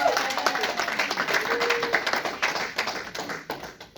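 A church congregation claps and acclaims the Lord during a Sunday service, dense applause filling the room with steady rapid claps that thin out toward the end, with some voices mixed in.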